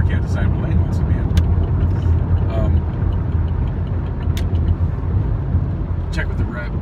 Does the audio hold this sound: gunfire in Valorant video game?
no